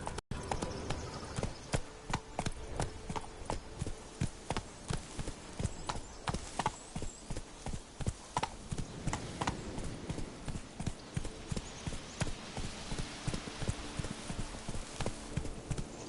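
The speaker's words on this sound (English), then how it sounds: "Whoa there, Roach." In The Witcher video game, a horse's hooves clip-clop in a steady, brisk rhythm of sharp, close knocks. The pattern runs continuously for the whole stretch, with faint ambience underneath.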